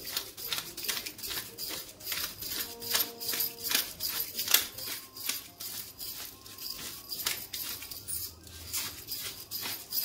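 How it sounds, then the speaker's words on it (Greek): Black pepper ground by hand over mushroom linguini, a quiet series of rapid dry cracking clicks repeating in short bursts, soft and close with no talking. "Τρίβουμε λίγο πιπέρι."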